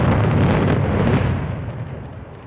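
Demolition blast toppling the Sugar City tower, a loud broad roaring boom that rumbles heavily and then slowly tapers off.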